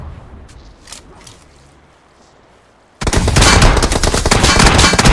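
Quiet, sparse pops in the first three seconds of a PUBG Mobile (BGMI) match, then a sudden burst of loud, continuous rapid gunfire that keeps going to the end.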